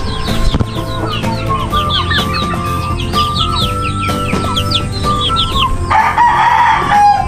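Free-range chickens, turkeys and ducks at feeding time cluck busily nearby while a rooster crows loudly more than once over the steady clucking.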